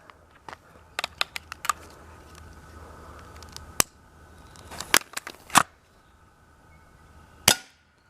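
A firecracker pellet is fired at a can, giving a few sharp cracking snaps with a louder impact pop near the end, spread over quiet outdoor background.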